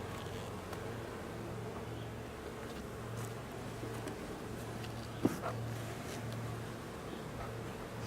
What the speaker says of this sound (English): It's just chock full of bees.